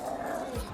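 A person imitates a dog, letting out a short, gruff bark-like vocal burst; the single yelp is close and fairly loud, with no other speech around it.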